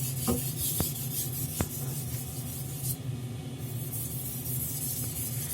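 A blade is sharpened on a Japanese natural whetstone with a continuous gritty scraping and rubbing, close and moderately loud, broken by a few sharp clicks early on and a brief lull in the middle.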